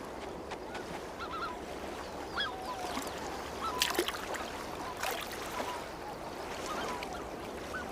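Black-necked swans calling as they begin courtship on the way to their breeding grounds, soft honking and trumpeting notes scattered over a continuous outdoor water and ambient wash, at moderate distance.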